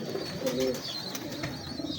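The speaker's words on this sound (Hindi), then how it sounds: "बड़ा तगड़ा कबूतर है माशाल्लाह" Pigeon cooing from a big, sturdy show pigeon of an old foundation breed, a low rolling coo in a short burst near the middle, close and moderately loud over a faint background of higher chirps.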